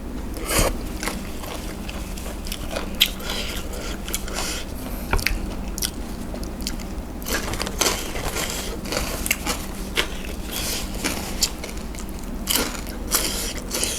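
Crunchy biting and chewing close to the mic while eating Thai spicy papaya salad with rice noodles, fermented fish sauce and crispy pork, with repeated wet crunches throughout and no talking.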